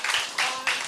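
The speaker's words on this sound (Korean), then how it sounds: "다시 한번 큰 박수" An audience at a book concert gives a big round of applause in short, loud bursts of clapping nearby, with no voices heard.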